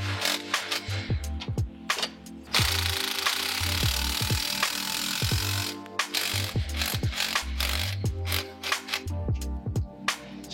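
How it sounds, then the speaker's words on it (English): A hand ratchet tightens an exhaust fitting on the rear dump section in repeated quick clicking bursts, some drawn-out runs of clicks, close and fairly loud with no talking. "We're just gonna torque it down slightly, and then we're gonna go back to that rear dump section."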